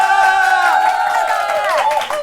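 A studio audience on a Korean financial TV talk show cheers and whoops in a bright, sustained burst that thins out near the end.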